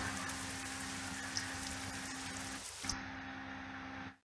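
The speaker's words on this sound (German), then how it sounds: "Hier kann man zu Regen wechseln." Steady rain ambience in the Euro Truck Simulator 2 map editor, a quiet continuous hiss of falling rain that cuts off abruptly at the end.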